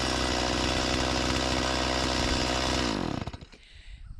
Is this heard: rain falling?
no